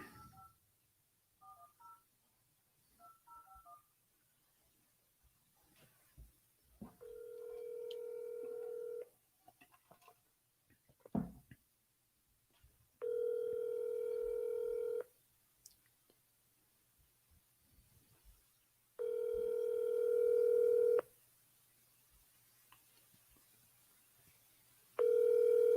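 Outgoing phone call: a few DTMF dialing tones followed by four evenly spaced ringback tones, each about two seconds long with silent gaps between, clear and close with no one answering.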